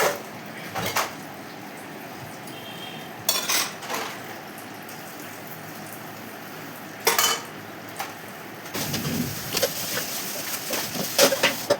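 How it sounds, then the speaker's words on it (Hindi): Steel dishes, pots and spoons are scrubbed and washed by hand in a home kitchen, with repeated clinks and clatters of metal utensils over a running-water hiss, busier toward the end, no talking. "मैंने बर्तन साफ़ किए।"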